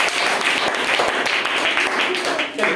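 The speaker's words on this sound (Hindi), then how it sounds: "बहुत बढ़िया, तालियां इसके लिए।" Children in a classroom applaud a maths answer with a steady patter of clapping under a teacher's voice.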